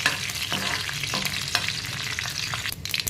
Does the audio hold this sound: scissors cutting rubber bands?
no